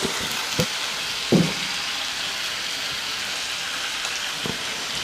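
Squid and shrimp stir-frying in a hot wok with chili and garlic for a drunken-noodle seafood dish, a steady broadband sizzle throughout with a few soft clinks and scrapes, no talking.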